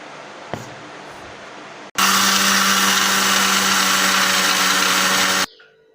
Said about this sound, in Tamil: இப்போ தேவையான அளவு சால்ட்டு போட்டு நான் மிக்சியில் அடிக்க போகிறேன்.